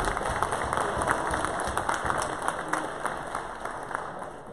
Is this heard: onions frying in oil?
no